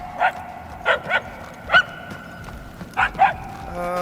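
Puppies bark and yip in short bursts, about six sharp cries in two clusters, over a low ambient game soundscape in the Guardians of the Galaxy video game on PS5, in the Knowhere chapter.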